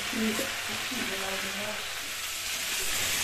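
Rohu fish and kohlrabi curry frying in a pan, a steady dense sizzle that stays loud and even throughout, heard close with faint stirring scrapes underneath.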